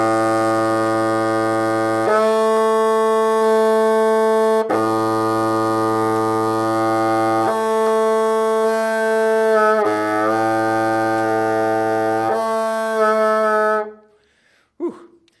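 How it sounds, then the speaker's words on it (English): A wind instrument holds a sustained low A, then flick-key slurs carry it up to the high octave. Each long, steady note jumps cleanly upward, and the pattern repeats several times before a brief breath-like noise at the end. "as I hit the flick key, I should be slurring up to the high octave for 3 and 4"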